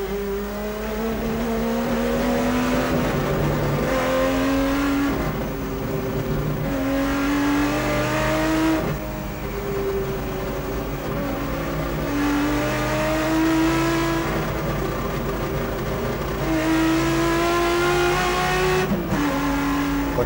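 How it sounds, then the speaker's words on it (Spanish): Onboard engine of a 1988 Turismo Carretera race car at Necochea, loud and close, repeatedly rising in pitch through each gear and dropping at every shift, sustained throughout with no talking. "Continuamos en el auto de Osvaldo Morresi."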